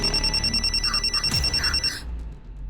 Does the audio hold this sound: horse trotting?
no